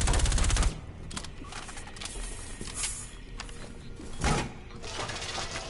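Submachine gun fire in a multiplayer shooter game: a loud, dense rapid burst up front, then scattered softer shots and clatter trailing off amid game noise.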